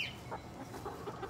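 Backyard chickens cluck softly and repeatedly while pecking at eggs fed to them, a low murmuring chorus of short clucks at close range with no speech.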